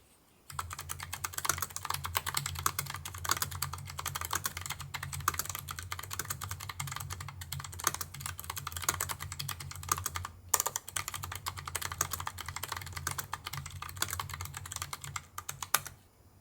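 Steady, rapid clicking of a Corsair K100 Air ultra-low-profile mechanical keyboard being typed on continuously, crisp keystrokes close up over a low constant hum.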